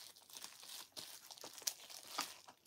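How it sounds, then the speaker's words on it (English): Perfume package wrapped in paper being cut and torn open, a close run of crinkling and tearing with a few sharp snips, steady and fairly quiet with no talk. "And I'm going to cut this open for you to see."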